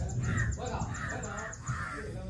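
A crow caws repeatedly in rainy Coorg countryside, a series of harsh, evenly spaced calls ringing out clearly at moderate distance.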